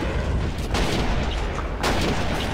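Artillery fire in the Army Men of War strategy game, two heavy booming blasts over a dense rumbling battle bed, loud and close, with no talk.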